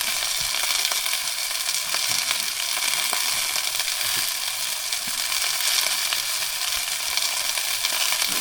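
Sausages sizzle and spit in a hot pan inside a small camper van, a steady close crackling hiss with scattered sharp pops.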